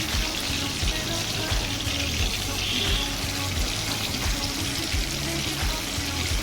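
Rohu fish pieces fry in hot oil in a kadai with a steady, dense sizzle and crackle that holds at the same level throughout, with no talking.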